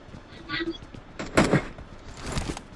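Gunfire from the mobile battle royale game PUBG Mobile comes as a few sharp bursts, the loudest in the middle, mixed with background game noise and faint voices.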